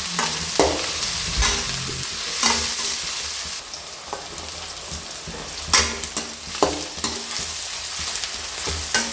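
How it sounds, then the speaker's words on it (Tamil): Chopped onions sizzle and fry in hot oil with chili and curry leaves for a village-style fish curry, a loud steady crackle broken by periodic scraping knocks of a spoon stirring the pan. "இப்போது பொடியம் இருக்கிற வெங்காயம் சேர்த்து நல்லா வதக்கி எடுத்துக்கலாம்"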